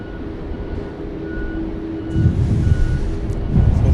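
Twin GE CF6 jet engines on an airliner bound for Hong Kong spool up at Sydney Airport, a steady broadband roar with a low tonal hum that swells louder in the final seconds.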